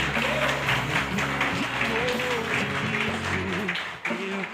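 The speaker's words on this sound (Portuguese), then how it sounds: "Aplauda o Senhor pela vida deles, igreja." Congregation in church applauding during a service, steady crowd clapping beneath speech and a sustained musical accompaniment, moderately loud throughout.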